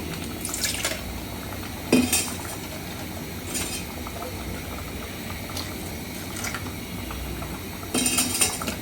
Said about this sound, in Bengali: একটু আমি পানি দিব।